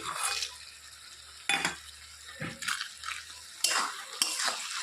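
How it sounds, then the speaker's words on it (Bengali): Spatula stirring lentil dumplings into boiled potato, eggplant and tomato in a pan, several close scraping clinks in uneven bursts over a faint low heat hum. "ডালের গুঁড়ি দিয়ে আবার একটু ভালো করে নেড়ে চেড়ে দিচ্ছি"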